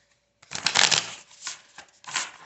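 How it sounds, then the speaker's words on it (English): A deck of oracle cards is shuffled in a few quick riffling bursts, close and crisp, with short pauses between them and no talking. "let's do a shuffle."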